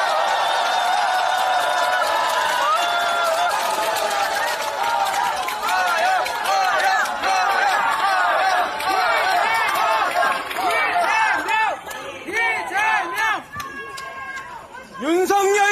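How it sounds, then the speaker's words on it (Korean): Street rally crowd in a Chuncheon market during a political visit, with cheering voices, shouting and scattered clapping mixed into loud, continuous crowd noise. "뜨거운 박수와 함성을 부탁드립니다"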